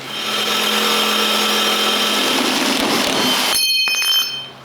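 A jigsaw cuts loudly and steadily for about three and a half seconds, then stops abruptly, leaving brief ringing tones.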